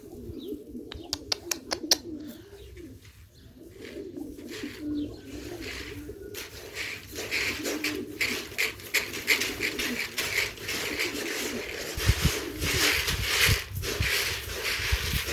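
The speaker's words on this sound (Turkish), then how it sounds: "Kuşların hepsi fokur fokur." Pigeons coo repeatedly in a steady chorus, fairly close, over a busy background of rustling and shuffling, with a few sharp knocks near the start.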